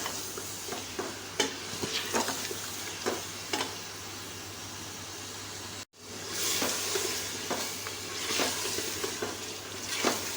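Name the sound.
mutton with green chillies frying and stirred in masala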